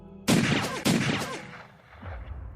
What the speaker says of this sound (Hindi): रितिका के जमीन पर गिरते ही पीछे से जियान की तरफ गोली चलने लगता है।